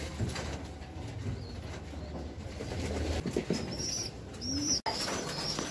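Pigeons coo softly up close, with a burst of wing flapping and a few high chirps mixed in.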